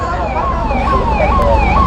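Ambulance siren wailing while the vehicle is stuck in a crowd at a political rally in Ranchi, loud rising and falling tones repeating over crowd noise.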